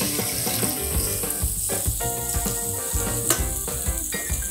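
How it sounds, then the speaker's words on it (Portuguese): Beef flank steak searing in a very hot frying pan, a loud, steady, dense sizzle with crackling spits running throughout, close and without talk. "a nossa frigideira já está bem quente. Agora é só a gente entrar com a carne,"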